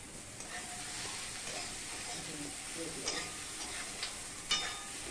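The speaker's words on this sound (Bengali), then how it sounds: "যেহেতু মশলাটা দিলাম আর একটু তেল দিয়ে দিলাম মশলাটা ভাজার জন্যে" Cumin and ground spices frying in oil in a pan, a soft continuous sizzle and hiss with a few sharper scrapes and clicks of a spatula stirring, close but fairly quiet, with no talking.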